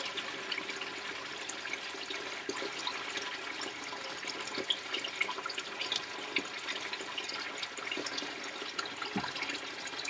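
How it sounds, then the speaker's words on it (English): Tap water runs steadily from a sink onto a rusty motorcycle exhaust, a constant soft hiss and splash at close range that stays even throughout, with no talk. "just put on the sink so that I can get some water on there"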